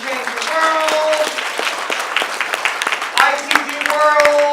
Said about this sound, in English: a big round of applause to all of our sponsors today